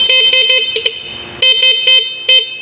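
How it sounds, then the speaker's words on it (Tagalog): A small car horn wired through a relay honks in a series of short, loud, bright blasts, several quick toots in uneven rhythm with brief gaps between them, close by. "kahit maliit yung busina, medyo malakas naman dahil may relay"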